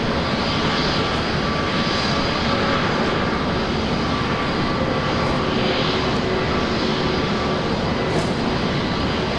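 Qantas airliner landing at Brisbane Airport, a steady loud engine roar with broadband rumble and whine holding constant throughout, close and continuous with no voices over it.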